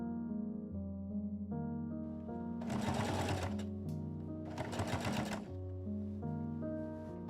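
Sewing machine stitching cardboard-stiffened fabric covers for a homemade pinnable dress form, two steady buzzing bursts of a few seconds each, close and fairly quiet, set against soft background music.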